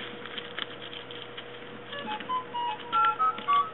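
A phone gives a short notification, a few quick electronic beeps in a row near the end, heard indoors over a faint steady hum with no talking.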